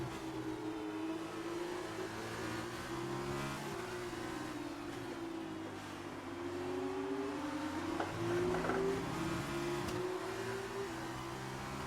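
A Formula One car engine in F1 2019 revs hard and steadily, its pitch rising and falling with throttle and gear changes, loud and continuous with no talk over it.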